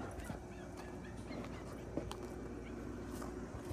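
A dog barks near a carport at a house in a Chinle, Arizona garden setting, the barks mid-distance and intermittent over steady outdoor background noise.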